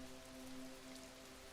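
Steady rain falls on a surface at night, a dense, even patter with a low constant hum beneath, heard alone at close range.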